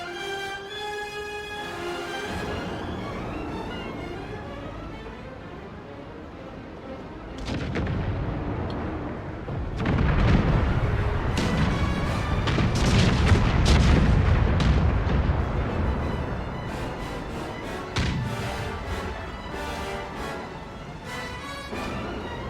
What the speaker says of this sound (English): I have been told that we don't mind the loud gunfire.